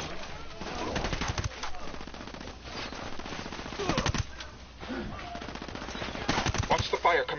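Rapid automatic gunfire bursts from the video game Ghost Recon Wildlands, a firefight around a church, crackling in repeated volleys across the whole stretch with brief lulls between.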